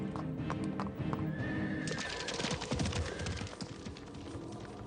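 Horses left behind in New York City, once patrolling Times Square and carrying tourists through Central Park, whinny loudly while hooves clip-clop steadily underneath, close and continuous with no talking.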